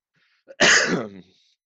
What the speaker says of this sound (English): I'll try to mute myself faster when I'm coughing.